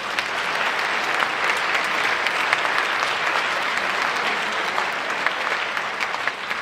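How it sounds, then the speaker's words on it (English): A loud, sustained wall of applause fills a school jazz band's December concert at Olathe South. Many hands clap evenly and continuously throughout, with no pause. "please give a round of applause to all of them"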